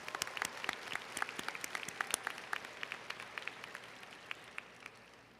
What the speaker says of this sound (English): Let's give all of your supporters a round of applause who are here today